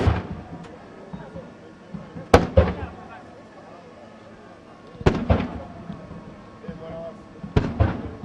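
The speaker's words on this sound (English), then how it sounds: "including a presidential salute, accompanied by gunshots" Three sharp gunshot-like bangs from a military salute at a state funeral, spaced a few seconds apart, each with a short echoing tail, over a murmuring crowd and voices.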